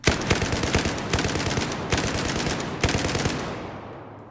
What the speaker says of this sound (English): And we'll throw a quick burst fire in here.